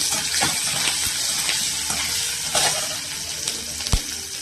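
Green chillies sautéing in a pan for a semiya dish, a continuous frying hiss close by, dotted with light clicks and taps of stirring.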